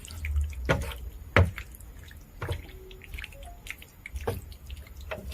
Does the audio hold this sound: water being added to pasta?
yes